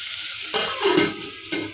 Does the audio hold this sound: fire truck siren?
no